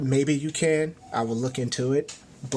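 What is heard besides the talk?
No everyday noise stands out behind the speech.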